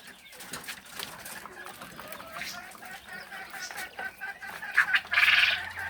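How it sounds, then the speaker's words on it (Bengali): Farm chickens, white tiger-type and broiler hens, cluck and squawk around a small poultry and quail farm, scattered calls rising to a louder burst near the end with faint background noise. "এই সাদা টাইগার মুরগি এই যে ফার্মি মুরগি নিচে"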